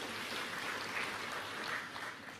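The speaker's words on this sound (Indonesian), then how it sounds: "Tepuk tangan untuk Pak Gubernur niki." Audience applause for the Governor of Bali at the launch of a gubernatorial circular, a steady wash of many hands clapping at moderate distance, continuous throughout with no voices on top.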